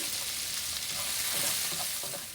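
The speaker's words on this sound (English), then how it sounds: "One onion chopped. Now let's saute this." Chopped onion sautés in a pan with a steady close sizzle and faint scraping stirs, no voices over it.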